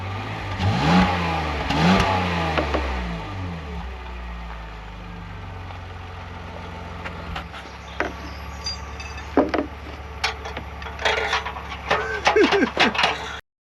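A small, underpowered engine revs hard near the start and then settles into a steady drone, while scattered clatter and other workshop noises rise over it toward the end.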